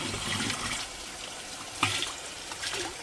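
Water pours steadily into a drum being filled to mix liquid bio-fertilizer for banana farming, a continuous close splashing rush with a brief louder slosh partway through.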